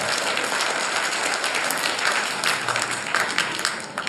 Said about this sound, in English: So they also deserve huge round of applause.